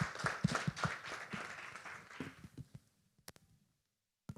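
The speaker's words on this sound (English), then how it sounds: "Please, a round of applause for" An audience at a live-streamed corporate event applauds as a bank's head of products is introduced. The soft, scattered clapping thins out and fades to near silence, with a few last isolated claps.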